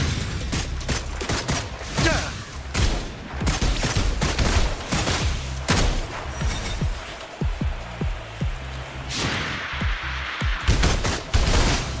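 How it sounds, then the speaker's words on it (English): Dense, rapid gunfire from the video game Wuthering Waves, a sustained fusillade of overlapping shots and impacts with occasional metallic clinks, loud and continuous throughout with no talk over it. "Let the bullets fly!"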